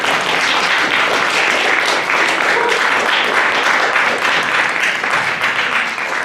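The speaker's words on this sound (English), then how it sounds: "Students, give a round of applause for these people in the audience." Students at a high school jazz band concert clap for the audience, a dense, steady applause from a large group filling the room, loud and sustained throughout with no talking.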